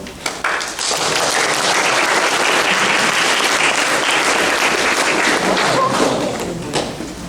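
Loud, sustained applause from a school leavers' assembly audience, rising quickly after a thump, holding steady for several seconds, then tapering off.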